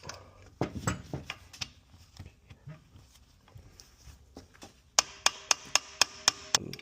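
A part is tapped into a Land Cruiser 80 steering column during an overhaul: seven or eight sharp, evenly spaced metallic taps ring out close and alone near the end, after a stretch of quieter handling clatter.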